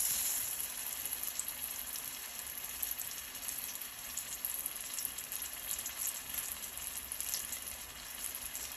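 Banana lumpia frying in hot oil, a steady fine crackling sizzle that holds at a low, even level with no talking.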